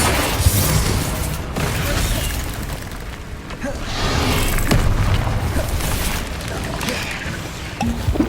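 Bombarda blasting spells going off in Hogwarts Legacy combat, delivering repeated booming bursts and crackling impacts layered over constant battle noise and shouted incantations.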